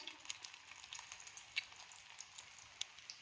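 Chicken pakora fries in hot oil over a high flame, a faint, steady sizzle with scattered small pops and crackles.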